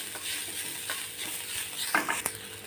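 Bati stuffing being stirred and mixed in a pan with spices, a soft continuous sizzle with light scraping strokes and one sharper clink near the end, close and with no talk.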